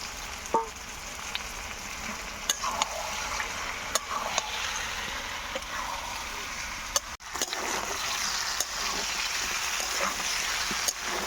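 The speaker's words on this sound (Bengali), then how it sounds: "এবার আমি দিয়ে দেবো এর ভিতরে ভেজে রাখা এঁচোড় আর আলু।" Fried jackfruit, potato and prawns drop into hot oil in a pan, giving a continuous crackling sizzle with scattered sharp pops and a brief clatter partway through, close and moderately loud.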